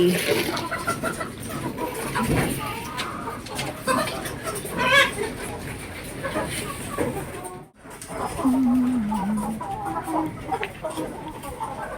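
Chickens cluck and murmur irregularly nearby, mixed with background chatter and a brief drop in sound partway through.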